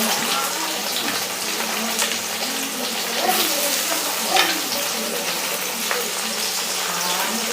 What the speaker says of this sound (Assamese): এতিয়া মই এইখিনিও ধুনীয়াকৈ পিঁয়াজৰ লগত আকৌ অকণমান সময়লৈকে এইখিনি ভাজি থাকিম